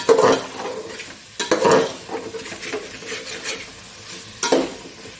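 Ground spices fry in a pan for a vegetarian winter khichuri with new potatoes and cauliflower, a loud sizzle broken by repeated scraping stirs of a spoon against the metal, no voices.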